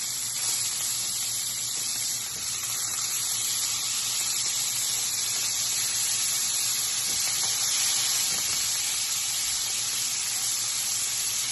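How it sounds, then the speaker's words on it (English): Marinated chicken sears in a hot pan, giving a loud, continuous sizzle and hiss that holds steady throughout without pause. "So I'm going to sear all this off"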